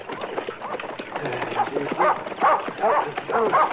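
A dog barks repeatedly in a short, rhythmic series of close, moderately loud woofs, growing more regular toward the end, with a voice briefly heard alongside in an Old West setting.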